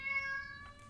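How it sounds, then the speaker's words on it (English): A domestic cat gives a single clear, close meow, quiet and tonal against a near-silent room. "Oh, this is my cat."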